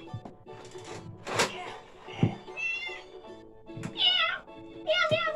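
A teacher and young children imitate a cat, several drawn-out vocal meows at irregular spacing in a quiet room, mixed with brief speech.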